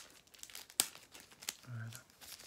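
Paper card packaging of small card pockets being cut with a few crisp crinkling, tearing snips, one sharp near crack standing out among quieter rustles, with no talk.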